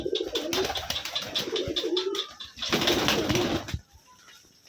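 Several Rajshahi Giribaz pigeons coo nearby at a pigeon farm in soft, rolling calls, overlapping in a steady chorus that fades near the end.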